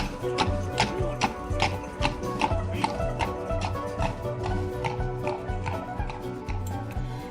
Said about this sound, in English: This horse-drawn carriage makes its way up and down the main street throughout the day.